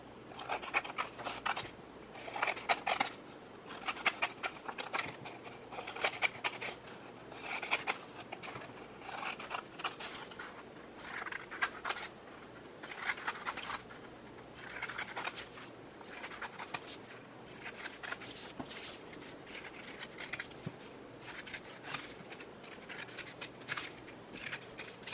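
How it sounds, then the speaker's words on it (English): Scissors cutting paper along drawn lines, a close, quiet series of repeated snips and rustling paper scrapes, steady rhythmic cuts with short pauses between them and no talking. "And then I am going to cut down all of my"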